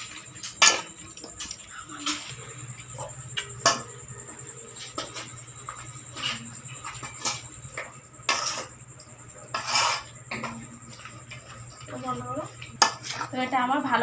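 Duck meat is mixed with oil and turmeric in a bowl, producing repeated clinks and scrapes of utensil against the bowl in an irregular rhythm, close by, with a faint steady hum beneath and no talking.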